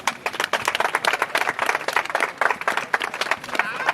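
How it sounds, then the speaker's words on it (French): Audience members at a volleyball league ceremony give sustained, dense applause that holds steady for several seconds, with some voices faintly mixed in. "que je vous prie d'applaudir"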